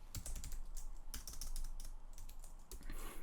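Typing on a computer keyboard, a steady run of fairly close key clicks and clatter with no voices.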